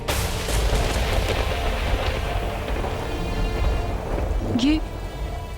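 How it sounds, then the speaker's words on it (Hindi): Heavy rain pours steadily with low rumbling like thunder, loud and continuous, with a brief tonal swoop near the end. "ये बिन मौसम बरसात"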